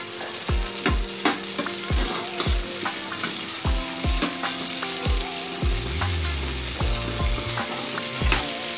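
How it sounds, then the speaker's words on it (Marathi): Capsicum sizzles loudly in a kadai for dhaba-style kadai paneer, with steady crackling frying broken by repeated spatula knocks and scrapes against the metal. "कांद्याप्रमाणेच आपल्याला शिमला मिरची देखील फ्राय करून घ्यायची आहे"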